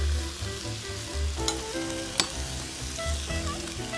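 Garlic and scallion whites stir-frying for a Hakka stir-fry, a steady close sizzle with soft scraping and clinks from the spatula stirring in the pan.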